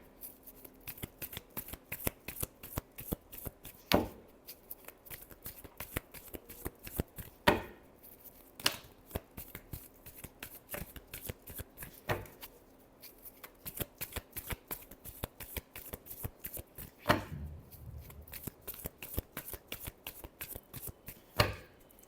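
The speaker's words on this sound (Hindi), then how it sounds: "एक बार और शफल करनी पड़ेगी, बहुत सारे कार्ड्स हैं।" A large deck of tarot cards is shuffled by hand over and over, giving repeated sharp riffles and soft slaps in an uneven rhythm, close up with no talking.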